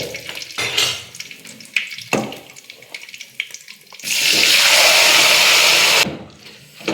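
Chopped jackfruit tipped into a hot pan of tempering with urad dal and curry leaves, setting off a loud, steady sizzle that rises abruptly, holds for about two seconds and then cuts off, after scattered clinks and stirring.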